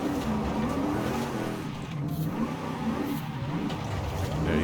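Drift car in Forza Horizon revving hard and sliding, engine roar steady and loud throughout with tire squeal and skidding layered over the continuous drone, no pause.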